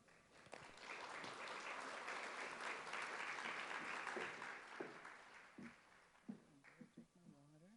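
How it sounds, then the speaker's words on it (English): An audience applauds at a 20th anniversary event for the Marshall Decision, a sustained wash of clapping that swells and then thins out, giving way to a few scattered claps and a voice speaking at the end. "how about a big warm welcome, round of applause for those very wise words"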